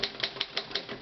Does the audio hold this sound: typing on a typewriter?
yes